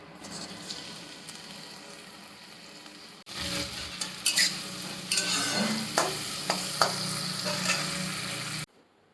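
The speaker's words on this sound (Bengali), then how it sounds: "এদিকে এবার দেবো একটু করলা ভাজা।" Bitter gourd slices stir-fried in a pan, first a low steady sizzle, then louder crackling and sizzling with repeated scraping stirs close by, no talk.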